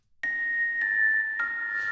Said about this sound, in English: the cute bell thing, that would be awesome. And those sound like this.